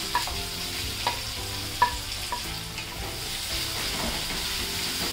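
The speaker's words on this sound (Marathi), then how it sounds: "हा कांदा आहे ना आपल्याला व्यवस्थित चांगला परतून घ्यायचा।" Onion sautés in hot oil in a kadhai with cumin, asafoetida and curry leaves. A continuous close sizzle runs throughout, punctuated by a few distinct scraping clicks of a spatula stirring, with no talk.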